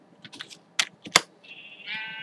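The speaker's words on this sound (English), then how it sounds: "It's got plenty of sheep around for me." Sheep bleat in a blocky sandbox video game hotel, quiet and a little distant. A couple of sharp clicks come first, then a wavering bleat at the end, with no talking.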